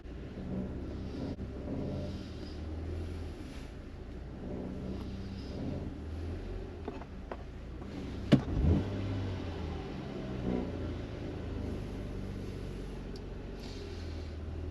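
A 2012 Chevrolet Impala engine idles steadily and fairly quietly after an injector replacement, no longer misfiring, with a brief sharp clunk and a small rev partway through.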